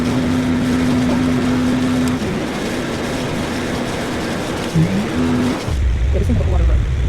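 A modified Jeep with a top speed of 100 mph climbs a hill in low gear, its engine a steady loud drone with a sustained whine that dips and rises near the end, while people talk over it.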